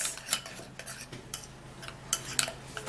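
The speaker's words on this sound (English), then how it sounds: "and then we're going to give it a stir" A metal spoon stirs oatmeal into tomato paste in a small bowl. Faint scraping and light clinks sound close by, irregular and quiet, with no talk.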